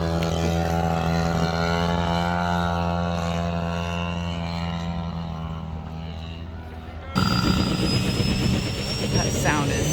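A model aircraft engine flies at a large RC event. It holds a steady, droning buzz with a rising whine, then shifts abruptly to a louder, rougher pass near the end. People talk nearby throughout.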